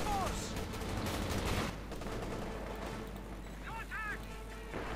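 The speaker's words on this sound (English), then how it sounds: "Light infantry gun, I imagine, still shooting up there for Captain Caveman." A light infantry gun fires in a Company of Heroes 2 match, with dense rattling and booming battle fire filling the first stretch, then softer distant shots as a commentator's voice talks over it.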